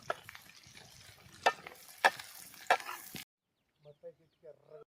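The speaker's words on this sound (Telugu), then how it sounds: "ఉల్లిగడ్డలు వేసుకుని కొద్దిసేపు మగ్గేదాకా ఉంచుకుందాం అనమాట." Onions and dried fish fry in oil with a soft, close sizzle broken by a few sharp stirring scrapes, then cut off into near silence with a faint voice.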